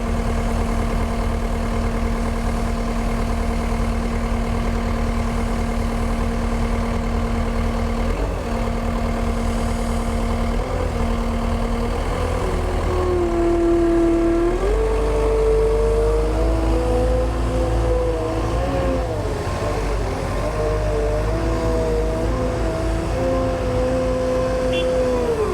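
A small front end loader's diesel engine runs steadily at a construction site during a mall renovation, its idle loud and close, with pitch shifts as the throttle rises mid-clip and then settles.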